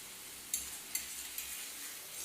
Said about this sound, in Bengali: এটা যত লাল করে ভাজা হবে পেঁয়াজের যাতে কাঁচা গন্ধটা চলে যায়